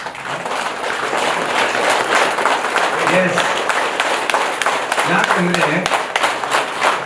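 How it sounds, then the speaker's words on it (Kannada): A seated audience at a yoga and wellness festival claps with full palms in a dense, continuous burst of applause that carries on steadily throughout, with voices faintly underneath. "ಈ ರೀತಿ ಚಪ್ಪಾಳೆಯನ್ನ ಹೊಡೀರಿ."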